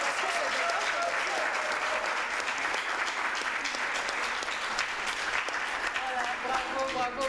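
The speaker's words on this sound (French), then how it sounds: "encore applaudi plus fort." An audience breaks into loud, continuous applause, dense clapping filling the room with scattered voices and cheers mixed in.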